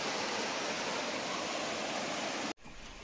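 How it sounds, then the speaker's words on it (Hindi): Fast, heavy water rushing after a landslide in Kullu, Himachal Pradesh, a loud continuous broadband roar close by that cuts out abruptly near the end, then resumes more quietly. "देख सकते हैं अभी आप कितना तेज फ्लो में पानी जा रहा है"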